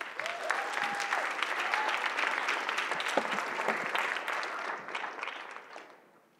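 An audience claps for contestants at a neuroscience research competition, dense sustained applause filling the room that carries on steadily, then fades out over the last second or two.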